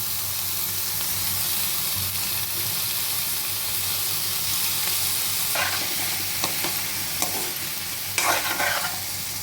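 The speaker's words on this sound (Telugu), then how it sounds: "పప్పు పులుసు అయితే మరుగుతుంది కదండి, ఇట్లా 5 నిమిషాల పాటు ఇలా మరగనివ్వాలండి" Lentil stew (pappu pulusu) with potato pieces simmering in a pot gives a steady low bubbling hiss, with a few brief clinks and stirring scrapes near the end; no one speaks.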